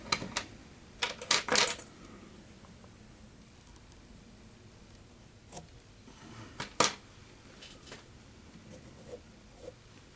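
Scissors snip through dragonfly wing material on a fly-tying fly, a quick burst of close, crisp cuts early on, then a few isolated snips against quiet.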